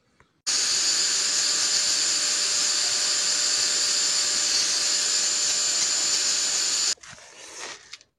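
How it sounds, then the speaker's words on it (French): An angle grinder cuts steadily into a rusted nut on a transmission, grinding it down a little at a time; a loud, continuous high whine runs for about six seconds, then drops to a rougher, quieter grinding as it ends. "je vais le disquer, le meuler tout petit à petit afin de l'affaiblir et je vais retirer l'écrou"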